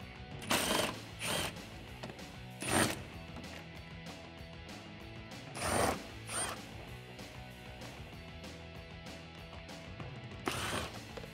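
A ratchet removes the air dam bolts on a Toyota Tacoma, with several short bursts of rapid clicking separated by quiet pauses, close and alone.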